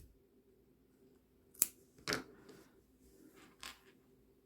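Scissors snip green crochet yarn in a few sharp, close clicks and snaps spaced apart against near silence.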